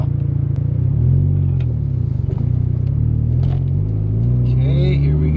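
A Mazda RX7 FC3S accelerates hard on the road ahead of a brake test, its rotary engine droning loud and close with a rising rumble and shifting pitch inside the car.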